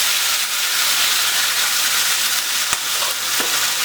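Beef lands in a pot of caramelized sugar for Spanish-style carne guisada and sets off a loud, steady hissing sizzle close up, with a few faint clinks of a utensil and no talking.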